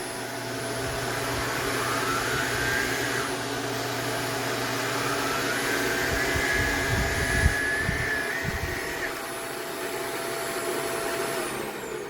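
A Shark Apex Zero-M vacuum cleaner (AZ1002) runs continuously with a steady whirring motor drone and a faint rising whine, plus brief low bumps midway as it moves, close and even throughout.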